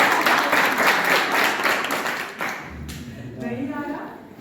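An audience at a theatre poetry performance applauds loudly and steadily for over two seconds. The clapping then thins out and fades while a voice begins speaking.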